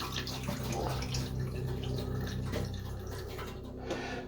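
Water draining out of a home heating system, a continuous gurgling trickle and splashing flow with a few drips, close and steady throughout, no speech.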